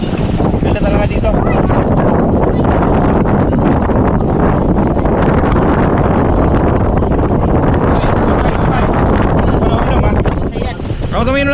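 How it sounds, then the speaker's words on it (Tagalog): Strong outdoor wind roars and buffets straight into the microphone, a loud, continuous rumble that swamps everything, with voices barely showing through near the end. "Ang lakas ng hangin."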